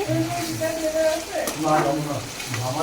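Chicken sizzles with spice masala in a pan, a soft crackle running underneath a voice as the pieces are stirred and turned.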